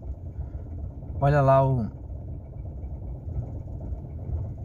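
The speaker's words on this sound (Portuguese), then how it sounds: "Ó, como é que ele oscila a marcha lenta, ó." A Ford Fiesta 1.0 8v engine idles unevenly with a misfire, a low uneven rumble that wavers in speed, while someone briefly speaks over it close by.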